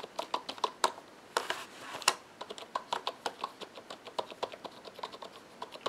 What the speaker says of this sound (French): Et le clavier en lui-même. On écoute.